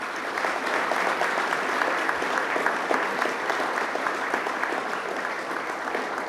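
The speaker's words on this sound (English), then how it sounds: "one last round of applause to all of our students again" Steady, dense applause from a gala audience honoring students, loud and continuous for several seconds with no pause.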